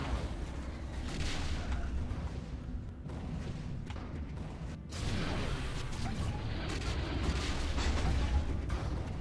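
Space fleet battle in the strategy game Stellaris, with steady rumbling weapons fire and booming impacts continuing throughout, dense and fairly loud, briefly dipping before surging again.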